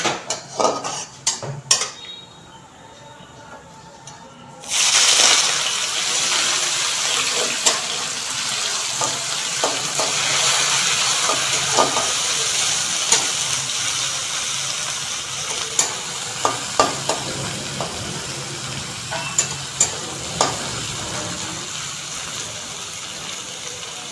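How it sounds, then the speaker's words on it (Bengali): Chopped onions hit hot oil already tempered with bay leaf, dried red chillies and a pinch of sugar, bursting into a loud, steady sizzle with intermittent spoon scrapes and clinks against the pan, no voices. "পেঁয়াজটা লাল করে ভাজা হবে"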